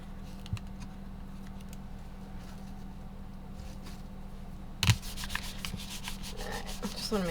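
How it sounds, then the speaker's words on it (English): Stickers are rubbed firmly down onto a paper card, making soft, dry scuffing strokes close by that become louder and more rapid in the second half. "I'm going to give this a little bit of a back rub"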